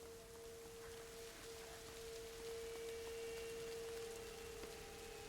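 Rain in the video game A Plague Tale: Innocence, a quiet, even hiss of falling rain with a thin steady hum running underneath.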